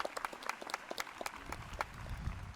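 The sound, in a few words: graduation audience applauding the platform party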